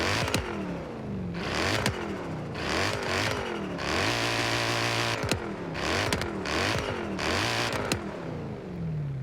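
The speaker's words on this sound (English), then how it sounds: "Now that is how a Maserati should sound." A 6.5-litre V8 Maserati Ghibli S in Forza Horizon 3 revs hard and repeatedly. The engine note climbs and drops through quick shifts in a loud, continuous run with no talk.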